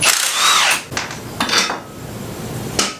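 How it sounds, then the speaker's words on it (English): An impact wrench loosening a strut nut on a Nissan 240SX being prepped for off-road desert driving, heard as loud bursts of clattering metallic hammering in a garage, several short rattling hits close by. "we are going to take the impact to that nut right there, and then that should take that off"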